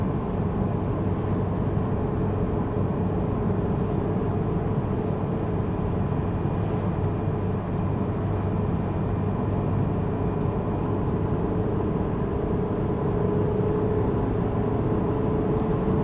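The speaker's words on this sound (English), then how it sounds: "So I'm cruising along in fourth gear here, going about 55." A Toyota RAV4 cruises in fourth gear at about 55 mph, a steady low engine drone with road and wind rumble inside the cabin, even and unbroken throughout.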